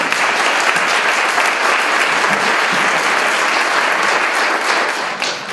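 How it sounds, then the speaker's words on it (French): Loud, steady applause from a sizeable crowd at a Relay for Life charity event fills the space, continuous throughout with no speech over it. "Vous pouvez applaudir"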